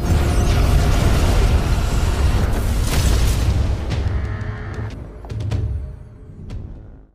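In an animated fantasy battle, a large battering ram smashes against a fortress's defensive formation, a loud booming crash with a heavy rumbling roar that fades into fainter thuds and rumbles.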